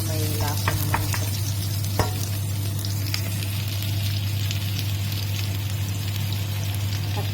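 Onions stir-frying in a pan for beef and broccoli give a steady, close sizzle with scraping stir strokes and a few utensil clicks throughout, with no talking.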